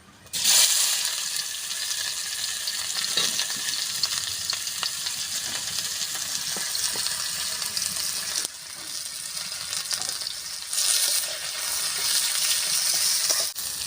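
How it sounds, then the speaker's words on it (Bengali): Sliced onions fry in hot oil in a pan for egg chowmein, giving a steady, close sizzle with light stirring scrapes throughout and a brief dip partway before the hiss resumes. "পেঁয়াজটা ভাজা হয়ে গেছে"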